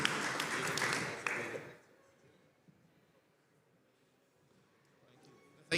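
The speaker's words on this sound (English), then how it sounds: "round of applause" Applause for a presentation at an NFC summit bursts up loud and dense for under two seconds, then quickly dies away to near silence with faint background murmur.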